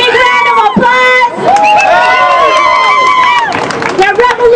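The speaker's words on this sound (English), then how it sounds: "Give them a big round of applause." Audience at a living-wage event cheers loudly for youth scholars, with high shouts and whoops from children and adults layered over clapping and crowd hubbub, close and energetic.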